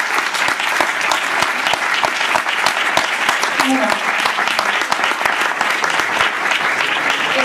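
Audience in a lecture hall clapping steadily and evenly after a talk on coeducation, the applause filling the whole stretch while someone speaks briefly over it.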